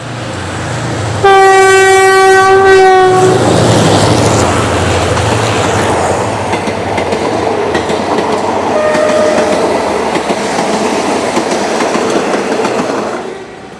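A train in Thailand sounds a loud, sustained horn close by, then continues with a heavy rumble and rattle of wheels on the rails.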